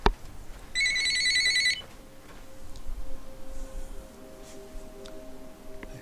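A telephone rings once with an incoming call, a bright electronic warble lasting about a second, then quiet room sound with a faint ticking and a low hum afterwards.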